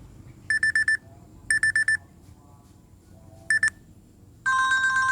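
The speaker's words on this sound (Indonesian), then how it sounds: "Ini kalau kita tekan sini yang bunyi bukan di handphone ya, bukan, tapi di jam tangannya." A Samsung Galaxy Watch Active 2 plays its alarm ringtone as short bursts of bright electronic beeps: two groups, a gap, a brief burst, then a longer, fuller beeping pattern, close and clear with no talk.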